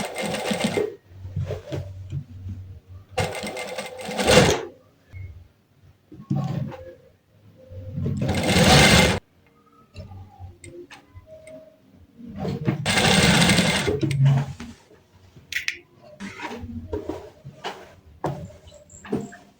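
Sewing machine top stitching the hem of a bubu dress, with several bursts of loud mechanical whirring stitching between quiet pauses and small handling clicks, close by and alone.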